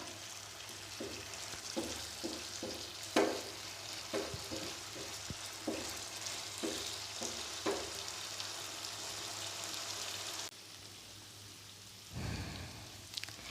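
Chicken tikka boti pieces frying in ghee on a flat tawa, a steady close sizzle with repeated scraping and stirring knocks; the sizzle softens near the end and a final stir sounds.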